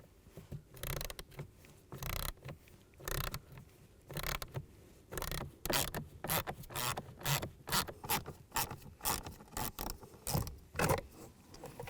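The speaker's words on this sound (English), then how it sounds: "we're going to use an 8mm socket and take these bolts out." Repeated metallic ratcheting and creaking as an 8mm socket works bolts loose on a 2006-2011 Cadillac DTS blower motor, in quick irregular bursts throughout, close and fairly loud with no talking.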